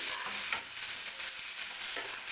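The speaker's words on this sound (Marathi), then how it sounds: "सोबतच हिरवी मिरचीसुद्धा टाकून घेणार आहे मी म्हणजे कांद्यासोबतच मिरचीसुद्धा व्यवस्थित भाजली जाईल" Chopped onion and green chili fry in a pan with a constant hissing sizzle, broken by a few quick stirring scrapes near the mic. No one talks.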